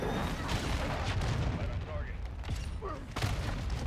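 Mortar explosions and gunfire in a video game sound as dense, booming bursts with rumbling decay, several impacts in quick succession throughout.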